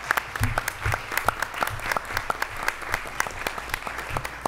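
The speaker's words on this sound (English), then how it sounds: "I give her a round of applause as she walks out." Applause rises from the audience at a school board meeting, a mix of scattered sharp claps over a steady patter from many hands. Low murmuring voices sit underneath.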